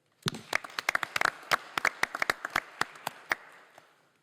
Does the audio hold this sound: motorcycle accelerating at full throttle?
no